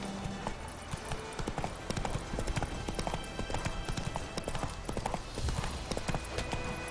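Galloping hooves of the horse Roach in The Witcher 3 video game, a fast continuous clip-clop at close range with soft background ambience throughout.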